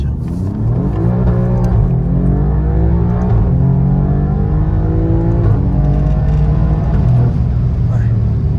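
An Alfa Romeo Giulia Quadrifoglio accelerates hard, its loud, close engine climbing in pitch through several gear changes with a steady, sustained roar from start to end.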